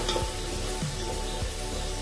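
Onions frying in oil for a restaurant-style prawn biryani, a steady close sizzle running throughout with faint scraping stirs at intervals, no voices.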